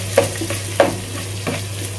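Garlic paste and green chilies frying in a pan while being stirred, a steady low sizzle with a few sharp spoon-scrapes and clicks, close and alone without speech.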